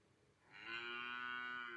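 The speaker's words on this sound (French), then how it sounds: "C'est juste une petite Madame Vache qui s'est barrée." A single cow lets out one long, steady moo that swells in after a quiet start and holds loud and close to the end, with no talking.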